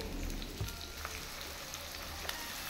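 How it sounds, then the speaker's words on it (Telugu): Sliced onion with green chilli pieces fries in oil in a pan for tomato egg curry, a soft, steady sizzle with faint crackles and a light stir near the start. "దీన్ని ఒకసారి మంచిగా కలుపుకొని ఫ్రై అవ్వాలి"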